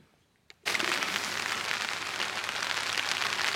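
After a brief quiet moment, steady heavy rain suddenly starts pattering hard on a surface nearby at a riverside campsite, a dense continuous hiss.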